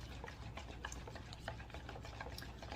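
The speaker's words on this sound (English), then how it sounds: "make sure you stir it up really good, because you want all that mixture, get all" A spoon stirring a thick cream of mushroom mixture to work out the lumps for baked pork chops, soft irregular scraping and clicking taps, faint and close, with no talking.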